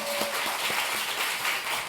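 A church audience gives a short burst of applause, many hands clapping together in a dense, steady patter with a few distinct claps standing out.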